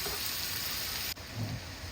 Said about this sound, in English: Start to put the ginger, sliced ginger in.